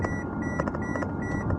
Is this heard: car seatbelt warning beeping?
yes